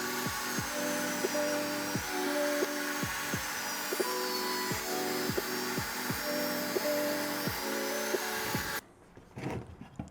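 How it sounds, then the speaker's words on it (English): A power saw cuts 2x4 lumber into pieces, with a steady loud motor whine, rhythmic blade strikes repeating about twice a second, then stopping abruptly near the end, leaving quieter handling noises. "We're going to cut these down to more manageable pieces."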